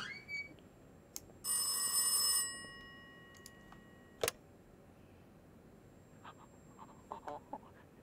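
Telephone ringing in a horror video game, one short bright electronic ring burst standing alone in near silence, followed by a sharp click and scattered faint taps and clicks.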